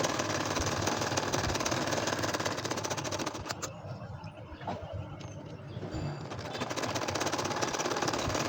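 Ordinary sewing machine stitching a nakshi kantha baby quilt with doubled thread, running loud and continuous at close range with a rapid rattling needle rhythm that eases briefly mid-way before picking back up.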